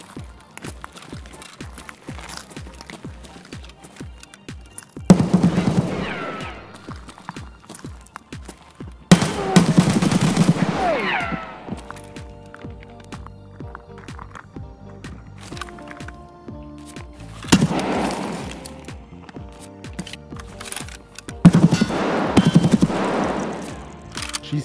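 Gunfire in the video game Escape from Tarkov comes in several loud bursts of rapid automatic fire, spaced a few seconds apart, with quieter footsteps and in-game movement between them.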